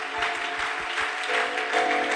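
A congregation at a midweek church service applauds loudly and steadily, a dense roar of many clapping hands with a sustained tonal hum of music underneath, continuous for the whole span.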